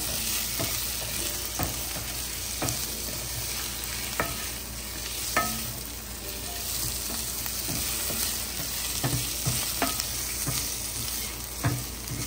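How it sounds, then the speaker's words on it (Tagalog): Mung beans being stirred and sautéed in a hot pan, a steady sizzle of frying with repeated scraping strokes of the spoon, close and continuous with no talking. "Halu-haluin lang natin. Kasi gusto ko ginigisa ko."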